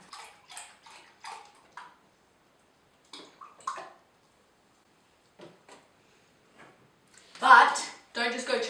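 Milk is poured into chocolate pudding mix in a brief splashing burst near the end, after a stretch of a person talking.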